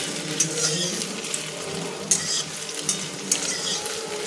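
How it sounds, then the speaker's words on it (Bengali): Moti balls frying in oil for motir pulao, a dense continuous sizzle close to the pan, with a few sharp clinks of a spatula against the pot, no voices. "এগুলো একটু লাল লাল করে ভেজে নেব।"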